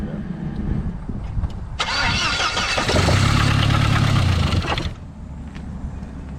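A Saab 9-3 with a blown, sludged engine cranks and runs roughly for a few seconds, loud and close, with an uneven knocking clatter before shutting off; people talk faintly around it.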